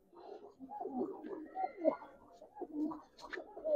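Giribaz pigeons cooing up close in soft, repeated throaty coos with a few chirps, quiet and fluttering in rhythm over a few seconds, with no talking.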